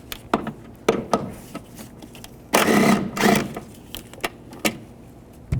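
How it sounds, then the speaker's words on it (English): A 10mm socket on a ratchet works a bolt loose from the windshield wiper transmission of a 2010-2017 Chevrolet Equinox, giving close, scattered clicks and short bursts of ratcheting with a longer grinding stretch in the middle. "Use a 10mm socket. Take this bolt out here."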